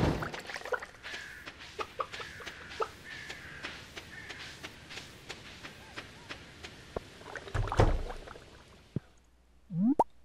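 Chickens clucking in Stardew Valley, a farming video game, as short repeated chirpy clucks scattered over a quiet background with a few soft plops and clicks.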